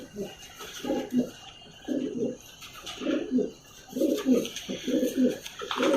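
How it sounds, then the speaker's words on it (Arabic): Black Egyptian pigeons give repeated low, throaty coos in rhythmic bursts, close and clear against faint background chirps and room noise, with about six cooing phrases in quick succession. "ده ذكر من الحمام"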